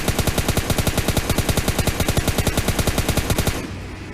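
Rapid continuous full-auto burst from an M4 rifle in the shooter game PUBG Mobile, loud and evenly spaced shots for about three and a half seconds before cutting off to a faint ringing tail.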